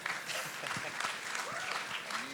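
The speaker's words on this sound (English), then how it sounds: "someone give us a round of applause on that one" Brief, fairly quiet applause from a panel audience at a hardware business event, a dense patter of claps with faint voices mixed in.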